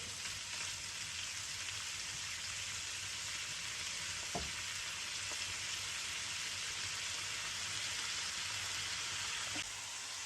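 Squid browns in hot oil in a wok, giving a steady close hiss of sizzling. A few soft clicks and taps break through the even frying noise, with no talk.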